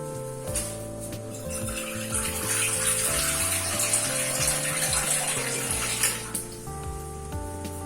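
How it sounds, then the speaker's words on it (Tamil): Water pours steadily into a cooking pot of pirandai kuzhambu, a continuous splashing rush that builds and holds for several seconds before tapering near the end. "இன்னும் கொஞ்சம் நம்ம தண்ணி ஆட் பண்ணிக்கலாம்."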